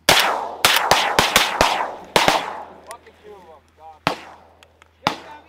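Shotgun blasts during a six-man duck hunt, a quick volley of about seven sharp reports in the first two seconds followed by a few scattered later shots, with hunters shouting and duck calls in between.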